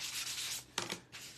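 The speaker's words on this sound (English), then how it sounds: "I'm just going to sand this pumpkin just a little" Quiet, close rasping strokes of a sanding block rubbing over a craft pumpkin, a few short back-and-forth passes.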